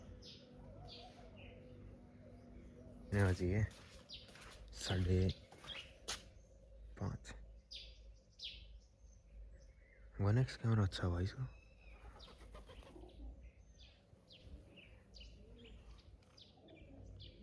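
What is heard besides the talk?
birds chirping and cooing, bird perched nearby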